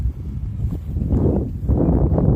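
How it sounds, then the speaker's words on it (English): Heavy wind buffets the microphone at a kayak launch in low, rumbling gusts, swelling and roaring continuously and loudly throughout. "It's really windy today"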